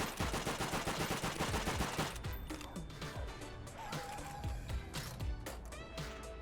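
A mounted gun in Call of Duty: World at War fires rapid bursts of shots. The crackling gunfire comes in quick repeated volleys, fairly loud and continuous, with scattered smaller impact sounds and no talk.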